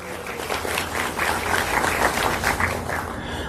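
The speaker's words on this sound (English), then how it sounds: "Can you give her a round of applause?" Sustained applause from an audience at a campaign speech, steady dense clapping filling the whole stretch with a faint murmur of voices underneath.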